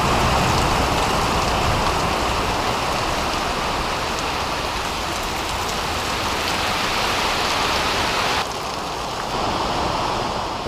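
A summer rain shower pours down onto open water, a dense, steady hiss of drops striking the surface that stays loud and unbroken, with only a slight dip near the end.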